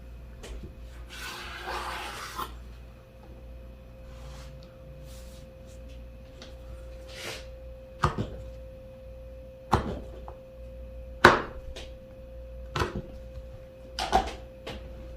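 A knife cuts through rolled baklava pastry, giving several sharp, separate crunching snaps spaced a second or two apart over quiet kitchen background, after a brief soft rustle near the start.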